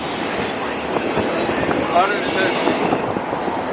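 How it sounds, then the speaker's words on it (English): A passing train, the last one of the day, rolls by nearby with rumbling clatter and metallic wheel squeals, while a person speaks briefly over the noise. "Whoa, that's the last train."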